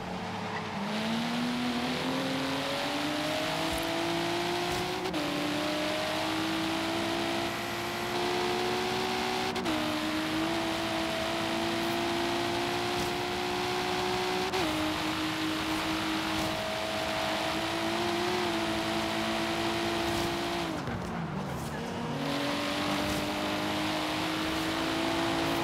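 Racing cars in Forza Horizon 3, including a BMW M4 Horizon Edition chasing a Supra, roar loudly and continuously, engines climbing through gears with repeated rising revs and brief shift dips, no talk heard.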